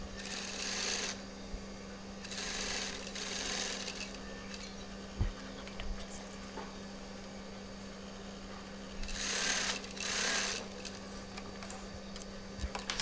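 A sewing machine stitches a baju koko kurta in bursts of fast whirring, with the motor running at about 0–1 s, 2.3–4 s and 9.3–10.5 s over a steady hum and quieter gaps. No one speaks.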